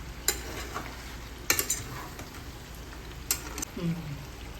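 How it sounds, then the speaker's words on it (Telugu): Mutton pieces frying with curry leaves and chillies for a dry fry, crackling and sizzling steadily as a spoon scrapes and stirs through the pan in a few distinct strokes. "మళ్ళీ తిప్పుతాను"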